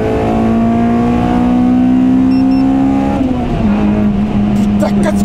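A Honda Civic EP3 Type R with its 2-litre naturally aspirated VTEC engine revs hard toward a 9000 rpm redline, a loud sustained wail rising then dropping at a gear change, with a voice talking over it.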